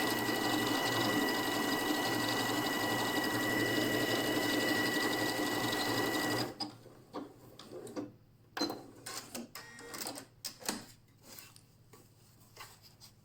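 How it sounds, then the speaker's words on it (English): A Janome Skyline S3 sewing machine runs steadily for several seconds, stitching a repeating sequence of decorative stitches, then stops, followed by quieter scattered clicks and handling noises. "what's going to happen when I hit the start button is it will stitch all 3 of those stitches, one right after the other"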